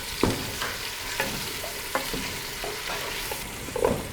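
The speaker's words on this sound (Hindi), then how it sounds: "और पंजों को हम 3 से 4 मिनट भून लेंगे" Chicken feet fry in a pan with a steady, close sizzle, broken by scattered clicks and scrapes as they are stirred, with no one talking.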